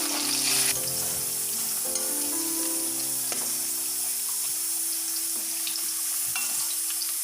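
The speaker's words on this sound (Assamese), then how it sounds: "এতিয়া পনীৰৰ টুকুৰাকেইটা ফ্ৰাই কৰি ল'ম মিডিয়াম।" Pieces of paneer crackle and sizzle in hot oil, a close, steady frying hiss with occasional spatters and a faint background hum.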